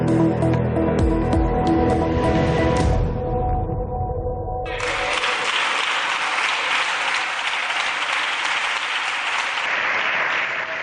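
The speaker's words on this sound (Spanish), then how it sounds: "es el aplauso de la bancada socialista Dolores Delgado" Applause from the Socialist bench in the Spanish parliament: dense sustained clapping rises after a few seconds over fading low murmur and continues steadily to the end, fairly loud.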